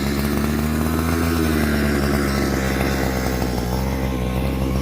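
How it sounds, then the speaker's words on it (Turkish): A weed-clearing machine's small engine runs steadily just after starting, a loud continuous buzzing drone with a slight rise and fall in pitch, close by and alone. "Şimdi de şimdi makineyi çalıştırdık."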